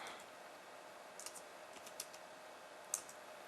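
A password is typed on a computer keyboard, with soft, quick, irregular key clicks and a few sharper taps over a quiet room hiss.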